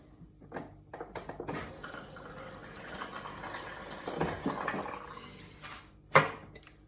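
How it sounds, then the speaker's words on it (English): Water poured into a dry plant-based dough mixture for golden nuggets, a soft splashing and trickling run with a few small clatters and a sharper knock near the end, no talking. "I think I'm going to add in more water."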